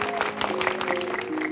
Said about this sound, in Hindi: करतल ध्वनियों के साथ उनका स्वागत करें